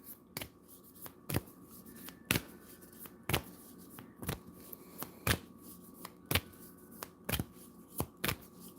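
Shamanic oracle cards being shuffled in a steady rhythm of sharp riffling snaps, roughly one per second, close and crisp over a quiet background.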